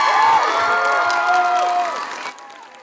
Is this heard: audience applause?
yes